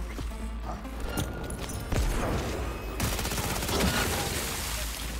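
Rapid gunfire fills a firefight in Cyberpunk 2077: Phantom Liberty, with dense overlapping shots and bursts that stay loud and continuous throughout.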